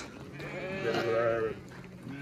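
A single sheep bleats in a drawn-out, wavering cry, fairly loud and near, as flocks are loaded up on barren land.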